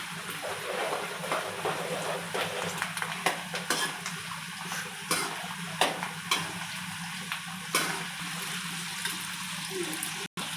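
Garlic and cumin frying in hot oil for tomato chutney, a continuous close sizzle with scattered spatters and stirring clicks throughout.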